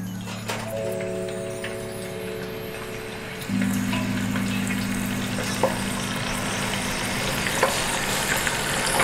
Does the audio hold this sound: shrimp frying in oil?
yes